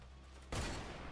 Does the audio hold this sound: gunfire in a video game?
yes